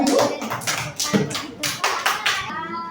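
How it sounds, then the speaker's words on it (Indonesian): Students in a classroom clap for a group of classmates, a loose burst of hand claps with distinct individual slaps, fading out after a couple of seconds, with voices mixed in. "kita kasih tepuk tangan dulu untuk kelompok 1"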